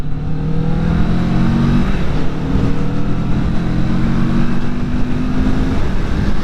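A 2020 Kawasaki Vulcan S cruiser motorcycle pulls ahead smoothly under steady acceleration, its engine a loud, continuous close drone that rises gradually in pitch over rushing wind noise, with no voices.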